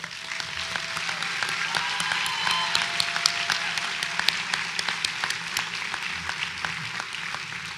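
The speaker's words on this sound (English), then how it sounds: "let's take a moment to applaud all of these characters in our stories" Audience applause at a graduation ceremony, a sustained patter of many hands clapping at moderate distance, steady for several seconds with sharper individual claps standing out, and faint murmur underneath.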